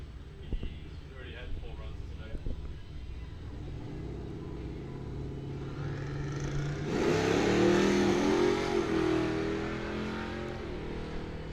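Bracket drag racing at Coles County Dragway, a Firebird against a Camaro: engines idle and rumble, then surge into a loud roaring launch down the strip, with a track announcer talking over it throughout.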